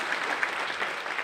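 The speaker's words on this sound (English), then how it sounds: "Big round of applause for John's tip there." An audience at an SEO conference tips session gives a short round of applause, a fairly faint, even patter of clapping heard from a distance.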